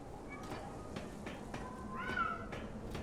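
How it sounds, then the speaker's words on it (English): Several cats meow in the video game Lies of P: a few short mews over a low ambient bed, ending with a longer, rising, drawn-out meow near the end. "So many cats."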